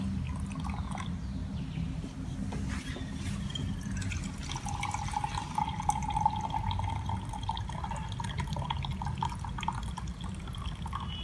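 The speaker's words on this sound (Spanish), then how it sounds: "se procede a llenar con agua caliente cada uno de los recipientes" Hot water is poured into containers for a Newton's law of cooling experiment, a continuous trickling splash that runs the whole time with a few drips and a slight rise partway.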